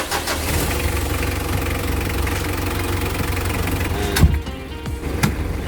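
A Mitsubishi L300 engine idles after a magnetic oil additive is added, a steady close mechanical rumble with fine ticking throughout and a couple of sharp knocks near the end.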